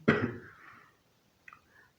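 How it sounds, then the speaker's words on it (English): One harsh cough up close, followed a moment later by a smaller, fainter cough. "I have cough because it's dry season"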